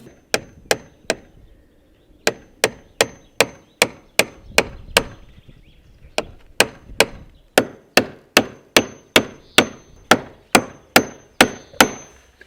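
A hammer drives nails into wood in quick runs of sharp, ringing blows, about twenty strikes in bursts of four to eight with short pauses, loud and close with no talking.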